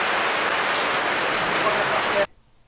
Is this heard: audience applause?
no